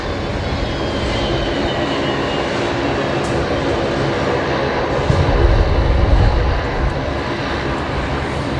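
A Link Airways Saab turboprop taxis into a bay at Brisbane Airport, a continuous broad engine drone holding steady with a brief louder low rumble partway through, heard alone without talk.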